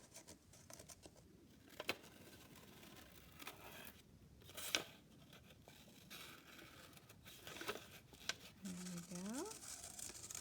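Scissors snip out a paper heart in a quiet room, the faint crisp cuts and paper rustles coming close and irregular. A soft voice murmurs now and then beneath them.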